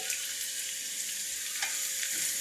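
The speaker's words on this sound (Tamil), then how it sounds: "வெங்காயத்தை வந்து நல்லா வதக்கிடுங்க" Shallots, dried red chillies and curry leaves sautéing in a pan for Chettinad mutton varuval, giving a steady, close hiss of frying oil with faint stirring scrapes, no voices.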